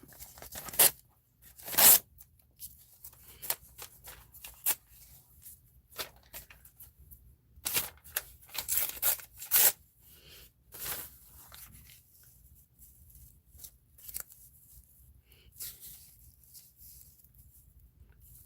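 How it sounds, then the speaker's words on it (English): Sheets of paper, including newspaper, torn by hand for a collage, in sharp irregular ripping bursts scattered across the stretch with quiet gaps between, close and fairly loud. "you can hear the paper just ripping"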